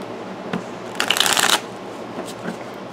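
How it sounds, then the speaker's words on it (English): A tarot deck gets a quick shuffle: one short, crisp riffle of cards bursting out close by midway through, framed by quiet room tone with a few faint handling taps. "let me shuffle these real fast."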